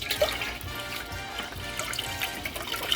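Water and stock pour into a pot for gumbo, a steady trickling and splashing stream at close range with small gurgles throughout.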